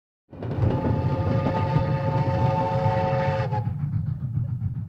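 A train pulls away as an audiobook sound effect, starting abruptly with loud rumbling wheels and a sustained whistle or horn tone that stops partway, leaving the heavy rolling rumble to continue alone.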